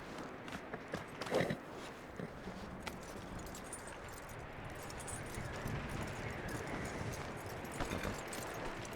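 Horse hooves in Red Dead Redemption 2 give a few scattered, soft clops and stamps over a steady, noisy outdoor ambience, with one sharper knock near the start.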